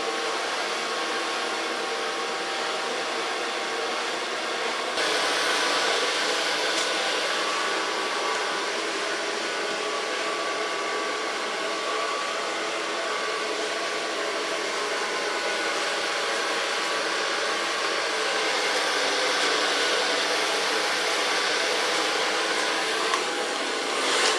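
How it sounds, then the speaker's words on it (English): A hair dryer runs steadily throughout, blow-drying hair during a bob cut and color session in a salon, a loud continuous whoosh with a slight shift in pitch partway through and no talking. "So far blow drying."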